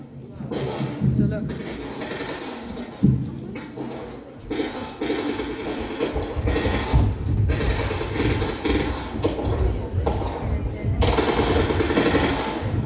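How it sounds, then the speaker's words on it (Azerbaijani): Loud, sustained bursts of rapid automatic gunfire rattle almost without pause, a sound effect played during a school Victory Day performance, with a voice speaking underneath. "Atəş səsləri eşidildi"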